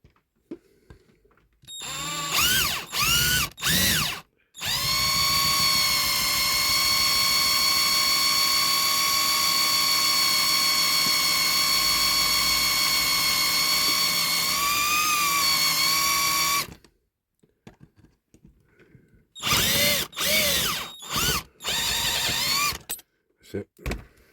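Electric drill boring into a diecast Dinky Toys Field Marshall tractor during restoration, with short whirring bursts, then a steady sustained whine for about twelve seconds, followed by more brief bursts, loud and close.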